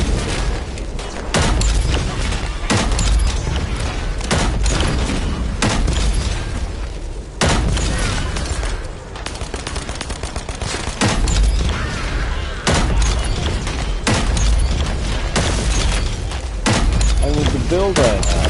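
Repeated heavy arm cannon blasts in The First Descendant, loud booming shots at irregular intervals over continuous game combat noise, with someone talking throughout.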